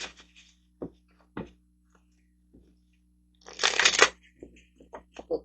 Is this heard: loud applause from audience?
no